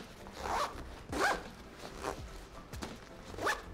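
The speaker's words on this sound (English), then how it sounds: "you can just close it with a compressed zip fastening" A compression zip fastener closes on a Tropicfeel Nest backpack in several short, close, scratchy pulls, each a quick rasping zip.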